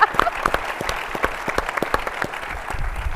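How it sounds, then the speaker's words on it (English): An audience at a science and justice panel event applauding the panelists, a dense crowd of hand claps, steady and fairly loud, with a few sharper individual claps standing out. "let's really thank our panelists with a hearty round of applause"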